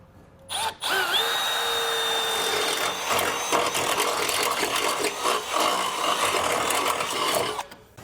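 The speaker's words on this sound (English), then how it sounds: "We're going to drill that out." A 1/2 inch bit drills out a hole in a vehicle frame rail while fitting a tow base plate kit, the power drill whining steadily and loud for about seven seconds after a brief start.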